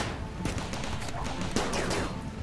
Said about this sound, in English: we're shooting this one, but he's not dying